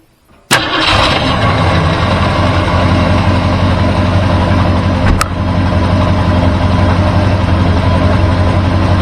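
A 1964 Ford Galaxie engine cranks and catches, then settles into a loud, steady idle close by with a brief click midway and no voices.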